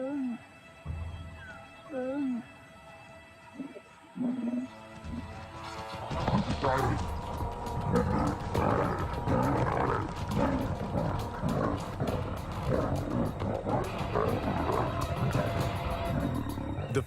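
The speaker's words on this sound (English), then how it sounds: "The first encounter turns into a cat fight." Lions growl and then erupt into roaring and snarling as a lioness confronts cubs at a boma gate in the wild, the fight loud and close, dense and continuous after a few quieter growls, with a narrator's voice speaking over it.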